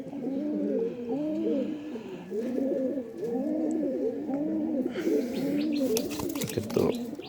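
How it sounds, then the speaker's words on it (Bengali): A white-eyed female pigeon coos close by in a steady series of rolling, throaty phrases, with a few faint chirps and rustles near the end. "এটা মাদি কবুতর, অনেক কোয়ালিটিফুল একটা মাদি"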